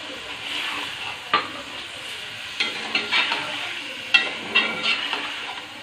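A chicken tikka mixture sizzles in a pan just after vinegar goes in, a bright, continuous hiss broken by repeated clattering stirs against the pan, close and fairly loud.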